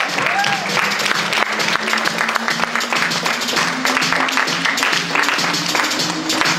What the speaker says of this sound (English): So let's give a round of applause for Antonio Smith, Jr.